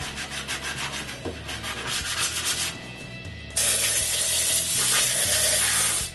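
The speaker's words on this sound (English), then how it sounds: "Finally, I use the mouse on my sander with a 220 grit sandpaper and end with a hand sanding" Wood being hand sanded with 220 grit sandpaper after machine sanding, a steady close rasping rub in continuous strokes that grows louder and brighter partway through, with no talking.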